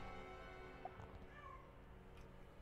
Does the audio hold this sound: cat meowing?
yes